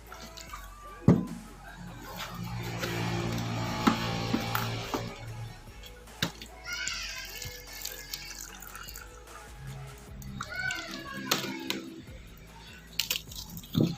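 Water trickles and drips from a rusty household water pump being drained during cleaning, close by with intermittent splashes, light clinks and handling noises, no talking.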